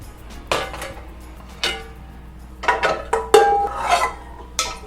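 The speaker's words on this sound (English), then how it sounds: "Grab a skillet." A skillet is picked up and set down with several sharp metallic knocks and clatters, close and fairly loud, separated by short quiet gaps and ending in a cluster of clinks, with no voices.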